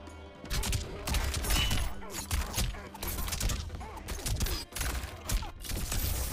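Razor shot attack in the mobile game Mortal Kombat Onslaught, a dense barrage of rapid sharp impacts and whooshing bursts layered over game music, loud and almost continuous.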